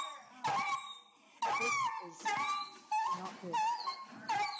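A dog recovering from anesthesia at an animal shelter whimpers and moans in several drawn-out, wavering wails. The sounds are close, with a person briefly speaking between them.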